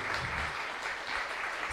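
A studio audience applauds a football coach on a French television interview show, a steady broadband wash of clapping held at an even level throughout.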